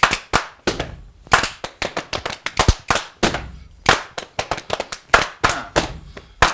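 A group claps together in sharp, rhythmic bursts, loud and close, with short pauses between runs of claps.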